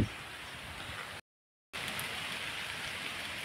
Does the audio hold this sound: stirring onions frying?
no